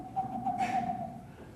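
A person's voice imitates a screech owl's double trill. It is a soft, close, wavering whistled trill lasting about a second and a half, with no talk over it.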